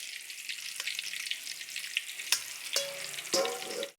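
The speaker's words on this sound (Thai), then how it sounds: "แล้วก็ เอาลงไปทอดเลย" Sausages and french fries deep frying in a wok of medium-hot oil, a steady soft bubbling hiss with a few sharp pops and utensil clinks toward the end, fairly quiet and close.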